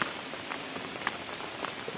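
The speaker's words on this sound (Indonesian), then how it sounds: "Aduh, ini hujan." Rain falling steadily on a village in the afternoon, a continuous close hiss of drops on surfaces with occasional louder individual splats and drips, no talking.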